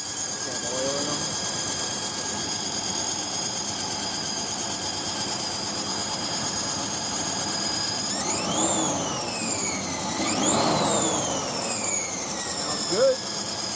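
A car engine fitted with big oil-filled air cleaners idles steadily, then revs up twice in quick rising sweeps before settling back, close and loud.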